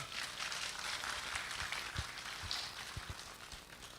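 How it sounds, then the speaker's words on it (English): Audience applause at the FOSSASIA Summit 2024 open-source conference for speaker Roger, steady continuous clapping from a room of listeners, fairly distant and even, lasting throughout. "big round of applause for Roger"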